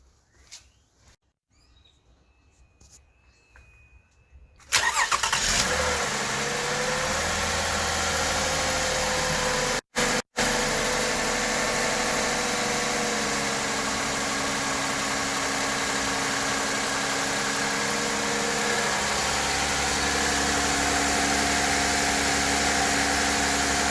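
A 2006–2017 Toyota Camry engine cranks and catches after a quiet start, then settles into a steady, slightly high idle near 1,300 rpm, with two brief dropouts partway through.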